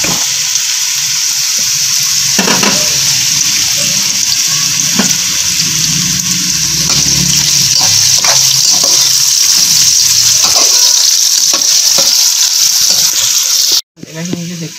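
Carrots fry in hot cooking oil in a home kitchen pan, giving a steady, loud sizzling hiss with occasional clatters of stirring and utensil knocks. The sizzle cuts off sharply near the end.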